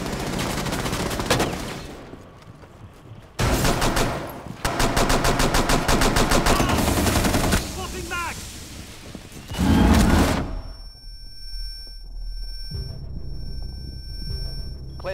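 Gunfire and explosive blasts in a tactical shooter match during a hard breach, bursts of rapid automatic fire and a heavy boom near the end, separated by brief lulls with ringing electronic tones.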